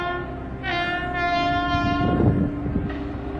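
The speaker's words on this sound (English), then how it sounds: "Let's start with the train whistle." A train whistle blows in one long, steady, loud tone over the low rumble of a passing train.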